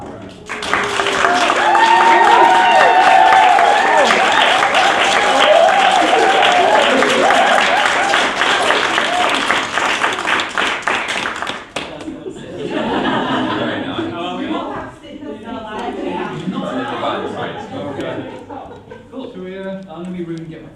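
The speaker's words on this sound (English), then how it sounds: "please give a big round of applause for Collabro" A large crowd at the Royal Albert Hall claps and cheers loudly for the vocal group Collabro, a thick wall of applause that fades after about eleven seconds into chuckles, laughter and people talking.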